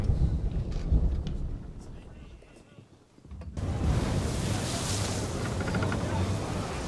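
A storm at sea in Assassin's Creed 3: roaring wind and rain with rumbling surges, dipping briefly quieter, then returning as a dense, loud, continuous wash.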